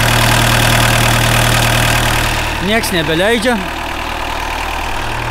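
A car engine idles with a steady low rumble throughout, and a person speaks briefly over it midway.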